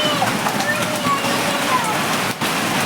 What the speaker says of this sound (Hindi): बहुत तेज ओले गिर रहे।